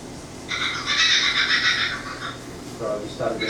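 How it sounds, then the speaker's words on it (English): An Australian kookaburra's call played back as a recording, a loud raucous burst of chattering, laughing cries over a steady background hiss, fading out with a few short lower notes near the end. "So this is the sound of a kookaburra."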